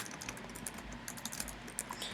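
Rapid typing on a computer keyboard, close and crisp, a quick uneven run of key clicks and taps with no talking.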